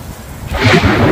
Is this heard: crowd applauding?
no